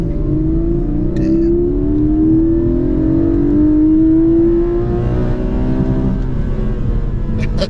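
A Lotus Emira pulls hard through second gear from about 2,000 RPM, its engine note climbing steadily and smoothly into a loud, sustained high rev with a throaty edge.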